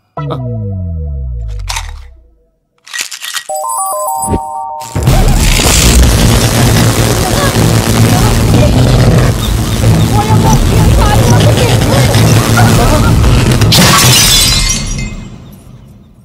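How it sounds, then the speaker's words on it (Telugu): Lights bursting and exploding in a comedy scene: a sudden loud shattering boom of breaking glass that roars on as a dense, sustained crash and crackle for about nine seconds before cutting off, after a short stretch of musical tones. "నిజానికి జాతకం వల్ల లైట్లు పేలకూడదు"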